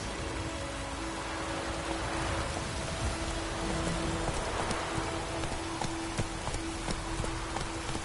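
In The Witcher 3, a horse's hooves clip-clop through falling rain. The rapid hoofbeats sit over a constant hiss of rain and a low steady hum.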